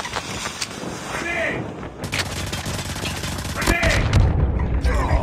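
A grenade blast from Call of Duty Mobile booms through sustained in-game gunfire, followed by another heavy burst near the end; the battle noise stays dense and fairly loud throughout.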